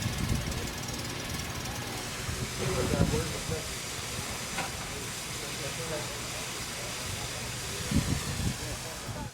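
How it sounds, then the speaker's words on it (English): N&W 611 steam locomotive standing at a railway platform, releasing a broad, steady hiss of steam with occasional heavier chuffs and clanks, over a faint murmur of people talking nearby. "Finally, the train pulls up at the platform after its 45-minute trip."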